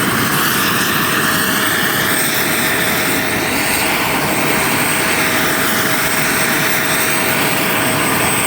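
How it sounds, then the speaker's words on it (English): A helicopter at the Arvada air show gives a loud, steady engine and rotor roar that holds without a break and has no talk over it. "for flying this chopper out here"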